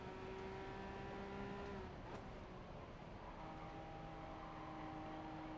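Steady drone of race car engines in Gran Turismo Sport at Tsukuba, with a Lexus among the pack, holding sustained tones that drop in pitch midway, faint and continuous with no talk.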